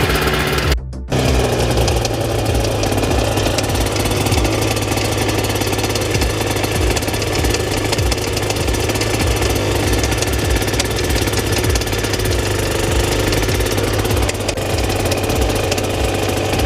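Aprilia motorcycle engine idling with a bad, rough engine noise, loud and close, a continuous mechanical clatter and hum running steadily throughout with no talking.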